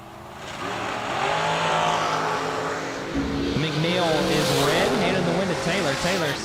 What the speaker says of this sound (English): In the blown small block dragster, left side of the racetrack.